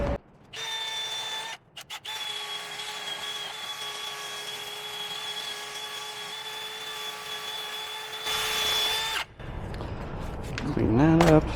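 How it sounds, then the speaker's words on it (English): A spinning wire brush on a power tool scrubs a front brake hub on a 2007-2025 Mercedes Sprinter van: a steady high whine close by, briefly interrupted, then a harsher, louder scouring burst near the end. "Use any wire brush on this part or none at all."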